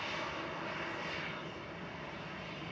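EasyJet flight 2046 from Reus arriving at Manchester Airport, its jet engines a steady, loud broadband roar that holds evenly for the whole stretch, with no voices over it.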